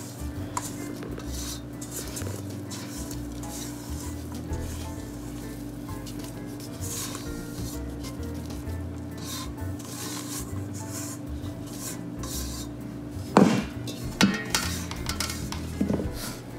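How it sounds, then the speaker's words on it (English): Banana bread batter being folded into mashed bananas in a mixing bowl, a steady soft scraping and clinking of utensil against bowl throughout, with a few sharper clanks near the end. "I'm gonna go ahead and take this batter out of this bowl and I'm gonna fold it into the"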